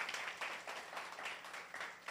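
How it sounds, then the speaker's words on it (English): An audience at the Ethcon Korea 2023 hackathon demo day gives a warm round of applause, a steady patter of many hands heard from a distance and fairly quiet. "big warm round of applause"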